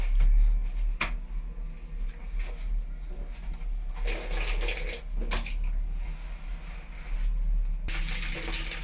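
Water being sponged out of a water tank during cleaning, a steady close wet rushing and sloshing with louder squeezing bursts partway through and again near the end.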